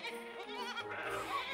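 A sheep-like bleat, wavering and nasal, drawn out over a second or so; it may be a person imitating the animal.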